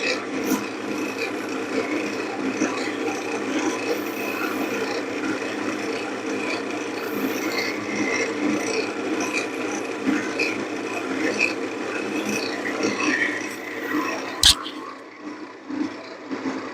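Close hand sanding with 1,800 grit sandpaper makes a continuous soft, raspy rubbing in even back-and-forth strokes, with a sharp click near the end.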